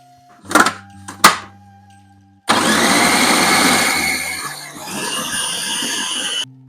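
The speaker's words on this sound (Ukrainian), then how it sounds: "І все, подрібнюємо все у блендері і смакуємо." Two short clunks, then a blender roars on loudly for about four seconds, its whirring pitch dipping as it chops through thick bean and vegetable spread before stopping.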